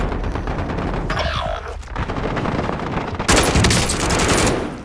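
Dense incoming gunfire in Call of Duty: Modern Warfare, a loud, continuous rattle of automatic bursts with heavier blasts near the end, close and intense with no talking.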